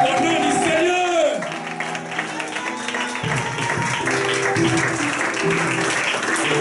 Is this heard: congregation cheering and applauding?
yes